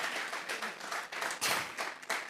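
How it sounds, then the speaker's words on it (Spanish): Church congregation at a Sunday service clapping together, a short burst of scattered hand claps with uneven pulses, fairly faint and distant. "¿Cuántos damos un aplauso al Señor?"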